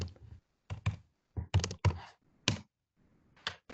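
Clusters of keystrokes on a computer keyboard, close and crisp, arriving in short irregular bursts separated by silent pauses.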